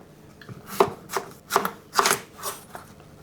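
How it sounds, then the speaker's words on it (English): A kitchen knife roughly chopping courgette on a cutting board, about seven separate crisp cuts at an uneven pace, close and fairly quiet with no talking. "And then you just want to roughly chop these."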